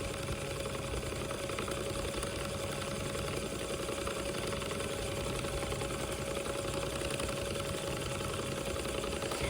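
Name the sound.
electric spinning wheel (e-spinner) motor running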